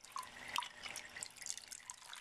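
Water drips and trickles inside a water scale container that tips and dumps its water at regular intervals, heard as scattered faint splashy drips over a low background with no talk.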